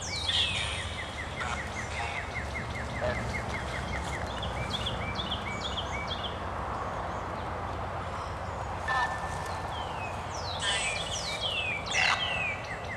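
Small birds chirp and call repeatedly through a cemetery's steady background of distant traffic rumble, with bright trills and tweets standing out now and then.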